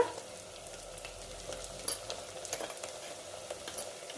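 Chili sizzles in hot oil for Bihari-style Champaran mutton, a quiet, steady frying crackle with scattered sharper pops and faint stirring taps, heard close and without talk.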